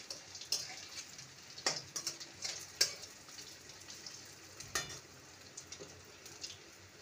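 Onion and egg snacks frying in hot oil, a soft continuous sizzle with a few sharp utensil taps and clicks scattered through, close and fairly quiet with no talking.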